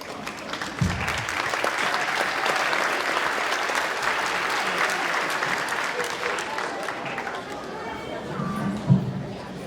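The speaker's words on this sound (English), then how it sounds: "You guys have to give the biggest round of applause to your family" An audience at a junior chorus spring concert in a school auditorium applauds with dense, steady clapping for several seconds, while a voice speaks over the crowd near the start and again near the end.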